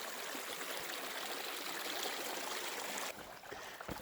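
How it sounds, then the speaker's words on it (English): A creek near Castaic Lake flows steadily, a broad, even rush of water close by that continues alone, dipping slightly in level near the end. "This is the creek I was hearing."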